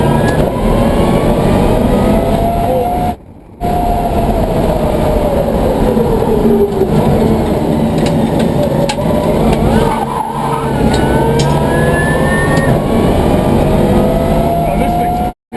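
Electric BMW M3 Pikes Peak race car surging hard from a stop, a loud continuous drive whine rising in pitch over heavy road and wind roar, with excited talk and exclamations over it and a brief dropout near the start.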